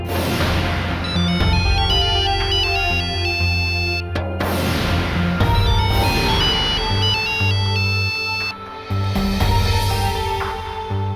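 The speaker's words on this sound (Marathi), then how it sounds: "विशाल, तुम्ही मला आता फोन का केलाय?" A phone ringtone from a Marathi TV serial plays as a steady, loud electronic melody with repeating tonal phrases that pause briefly and restart, with no voices over it.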